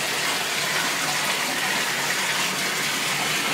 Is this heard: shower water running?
yes